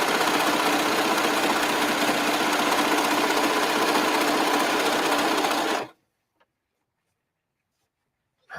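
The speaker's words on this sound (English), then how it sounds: "this serger, wow. It punched through quite a few layers." A serger stitches steadily and loudly through several stacked layers of canvas for about six seconds, a dense continuous mechanical whir, then stops abruptly into near silence.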